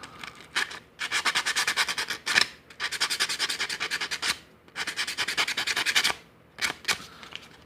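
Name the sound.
sanding the sides of a Medeco key with sandpaper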